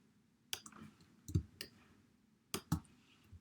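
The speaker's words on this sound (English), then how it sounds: "I'm going to click right here. Click and pull." A computer mouse clicks about five times at uneven intervals while a logo outline is drawn in a web vector editor, each click crisp and close, with quiet pauses between.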